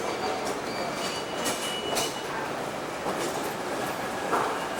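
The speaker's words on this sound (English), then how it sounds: "Times Square subway station." A subway train rumbles steadily through Times Square subway station, with loud continuous rail noise, clattering wheels and occasional squeals close by.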